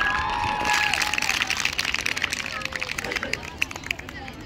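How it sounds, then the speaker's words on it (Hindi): Loud applause and crowd noise at a school annual sports event in a hall, a dense wash of clapping with some cheering, steady throughout with a brief voice early on. "प्लीज सर जोरदार तालियों से एक बार।"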